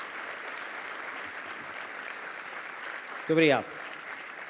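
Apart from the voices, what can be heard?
audience applause at a dentists' congress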